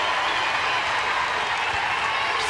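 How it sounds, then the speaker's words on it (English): Softball stadium crowd at the Women's College World Series semifinal cheering loudly and steadily after a base hit, a dense continuous roar with applause holding throughout. "This crowd gets even louder"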